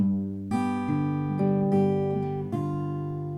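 Plucked acoustic guitar notes from a fingerpicked blues measure ring out together, with fresh attacks about every half second over sustained bass, clear and close with no talking.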